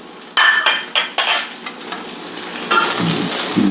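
Crispy chicken fries in freshly added butter with a loud, bright sizzle. It bursts up several times as the pieces are stirred, then settles to a steadier hiss with a low scrape toward the end.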